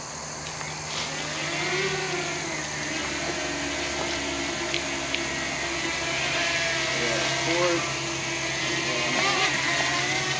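A small drone launches and flies on a trail outing, its steady high whine holding under a faint background hum while people talk quietly nearby.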